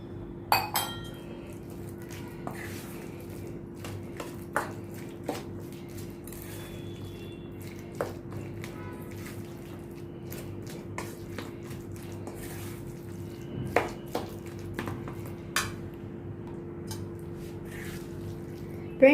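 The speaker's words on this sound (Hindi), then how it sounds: "अभी ये बैटर मैंने बना लिया, अच्छी तरह से मैंने मिक्स कर लिया।" Spicy bread pakora batter with Kashmiri red chili powder and a little water being stirred in a bowl, giving scattered light clinks of a spoon against the dish over a steady low background hum, with no talking.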